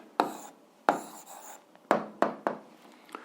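Pen or chalk writing down an answer to an algebra percentage problem: a handful of short sharp strokes and taps, spaced irregularly, close and fairly quiet, with no speech.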